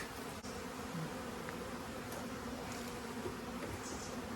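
Dense, steady buzzing of many honeybees at an open hive with brood and eggs on the frames, the sound continuous and close throughout, with no talk.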